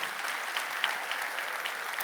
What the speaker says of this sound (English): Give them a warm round of applause, please.